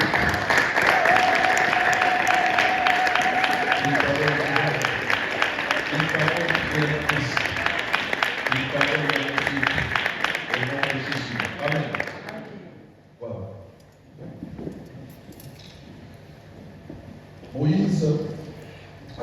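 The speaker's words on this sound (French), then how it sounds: "Nous allons nous lever et acclamer la parole de Dieu" Applause from a church congregation during a Sunday service fills the first twelve seconds, dense and sustained with voices calling out. It then drops away to quieter moments and brief shouts.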